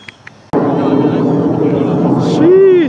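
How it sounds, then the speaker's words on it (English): An airplane passes overhead outdoors: a broad, steady roar kicks in abruptly after a brief quiet start and holds at a loud level, swelling slightly toward the end as a voice speaks briefly over it. "there's an airplane"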